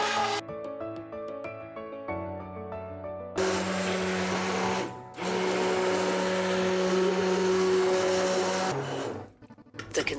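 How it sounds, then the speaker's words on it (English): Blender crushing cooked apricots for sun-dried fruit puree: a loud, steady motor whir that starts after a few seconds, drops out briefly, resumes at full strength, then stops near the end. "Crush the apricots with a blender and remove the pulp."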